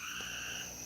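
Spring peepers call at night as a dense, steady chorus of high piping notes, layered in continuous bands and carrying on without a break.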